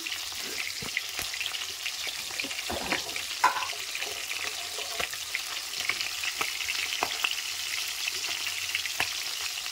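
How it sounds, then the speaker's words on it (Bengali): A fish head fries in hot oil with a steady, quiet sizzle broken by scattered sharp crackles and pops throughout. "মাছের মুড়োটা আমার ভাজা হয়ে গেছে,"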